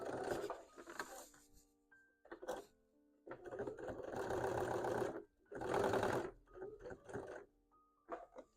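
A sewing machine runs in several separate bursts of rapid stitching, close and clear, with short pauses between runs.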